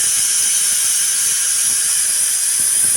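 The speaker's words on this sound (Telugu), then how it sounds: "ఒక విజిల్ వచ్చేసిందండి." A pressure cooker whistle lets out a steady, loud, high hiss of escaping steam that holds unbroken throughout, with a faint low mechanical rattle beneath it while a potato spinach curry cooks.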